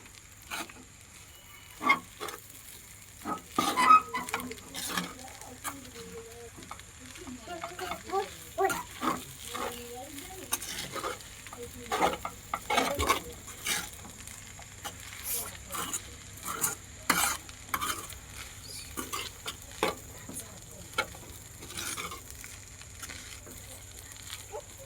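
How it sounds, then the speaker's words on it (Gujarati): Poha (flattened rice) being stirred and mixed in a frying pan, with scattered scraping and stirring clatter of a spoon against the pan over a soft, steady sizzle, close and fairly quiet throughout. "આ રીતના હલાવીને મિક્સ કરી લેવાના પૌવાને"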